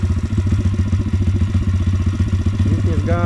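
A motorcycle engine runs steadily at close range with a rhythmic, throbbing idle that picks up slightly toward the end.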